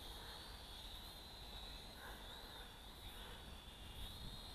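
The motors of a JJRC H31 waterproof RC quadcopter in flight give a steady high whine with a faint wavering pitch, distant and quiet under wind noise.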